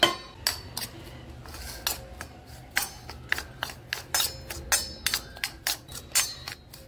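Chopped onion, turmeric, salt and coriander leaves being mixed together in a bowl, heard as a rapid run of sharp clinks and taps, close and fairly loud, with brief pauses between bursts.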